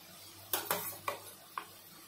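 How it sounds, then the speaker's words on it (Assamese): Goat meat going into a pot of fried onion and spices, heard as four sharp clattering knocks spaced about half a second apart, fairly close and with no voice. "মাংসখিনি দিম"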